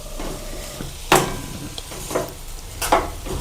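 Poha kachori filling being stirred and fried in a hot pan, with a steady sizzle under three or four distinct scraping strokes of a spoon against the pan, close and fairly loud.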